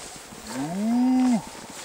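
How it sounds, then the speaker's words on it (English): A cow gives one loud, close moo that rises and then falls away, heard alone without talk, outdoors on a snowy day of sledding near a herd of cattle. "Look at the cows!"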